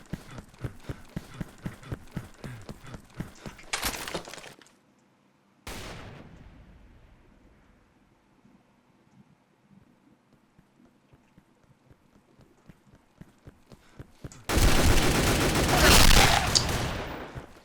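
Gunfire from a pump-action shotgun, an M1887, in the online shooter Phantomers Online, with loud bursts of shots near the start and again at the end and quieter game ambience in between.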